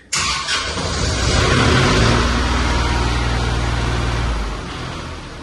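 A dusty old machine's engine starts at a creek clean-up and settles into a loud, steady idle held at high revs. It drones close and constant, then eases slightly near the end, with no talking.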